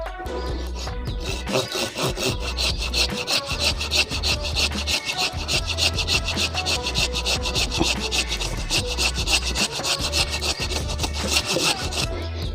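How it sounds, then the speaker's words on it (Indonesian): Steady back-and-forth sawing through the woody stump of a Streblus asper bonsai, loud and close with a continuous rasping rhythm and no talk. "yang bagian sampingnya ini harus dipotong agak menyerong"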